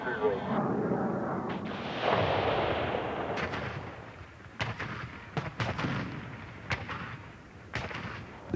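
An F-8 Crusader fires Zuni rockets at a ground target, a loud whooshing roar followed by a series of sharp bangs and thuds that grow sparser and fainter, with a narrator speaking over them.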